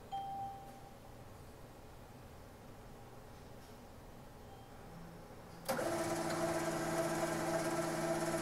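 An ICBC ATM processes a cash deposit: after a quiet stretch, its internal mechanism starts abruptly with a steady whirring motor and a humming tone that continues to the end.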